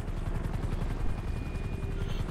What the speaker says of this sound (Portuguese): o cara não tá sabendo controlar o helicóptero